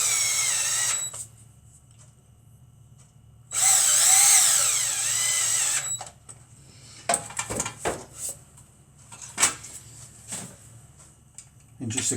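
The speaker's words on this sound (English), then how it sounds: "And we'll just finish putting the timing cover screws back in." Power drill driving timing cover screws into a BSA B33 motorcycle engine: two loud, steady whirring bursts of a few seconds each, followed by clinks and clatter of tools up close.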